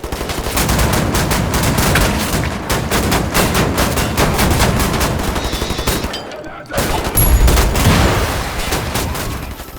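Rapid, loud shotgun blasts and heavy gunfire from a first-person shooter game where the player kills Nazis, dense and continuous with a brief silent gap before the firing resumes.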